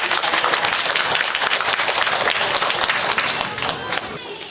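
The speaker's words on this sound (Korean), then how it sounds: "김성곤 이사장님께 깊은 감사의 박수를 보내드립니다" A Korean community audience in Northern California applauds a former chairman of the Overseas Koreans Foundation, dense, sustained clapping from a crowd filling the room, loud and steady before easing slightly at the end.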